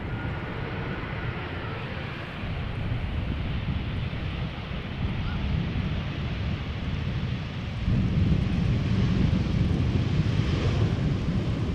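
A heavy KLM airliner on approach to land at Schiphol Airport, arriving from Aruba, gives a steady, broad engine roar mixed with wind buffeting on the microphone, growing louder near the end as it closes in.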